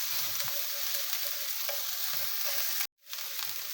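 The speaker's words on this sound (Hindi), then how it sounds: "प्याज को हमने इस तरह हल्का सा भून ली है" Onions lightly fry in a pan for a mutton and bitter gourd curry, producing an even, moderate sizzle that drops out for a split second before carrying on.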